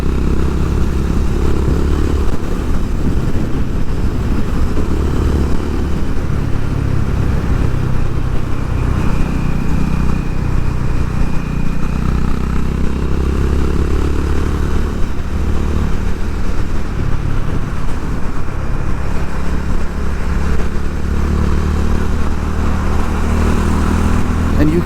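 A Honda H'ness CB350 motorcycle engine thumps steadily throughout a ride, heard close and loud with constant rumble and some wind, with no one talking.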